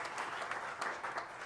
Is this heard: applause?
yes